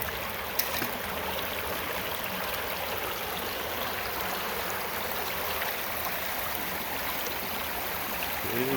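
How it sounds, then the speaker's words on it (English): Water runs steadily through a gold prospecting sluice box in Indiana, with rocks wedged at the header to stir up turbulence, giving a constant close, even rush and trickle outdoors that never changes, with no voices. "we got them rocks sort of squeezed in on that, the header part of the sluice, creating a little turbulence"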